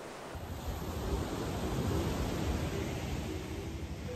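High ocean waves surge at a beach in a steady wash of surf and wind buffeting the microphone, moderately loud, continuous and without talk.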